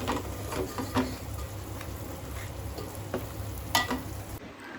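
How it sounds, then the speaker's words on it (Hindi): Masala spices fry in a pan with a continuous, moderate sizzle broken by occasional clicks and scrapes from stirring, and no speech. "और ये भून रहा है मेरा मसाला"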